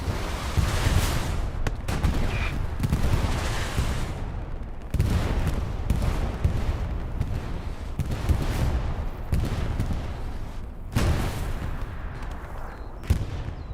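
Katyusha rocket artillery hits in Hell Let Loose as a long, dense barrage of explosions. The booming roar pulses in heavy waves with short breaks between salvos and never lets up, with no voices over it.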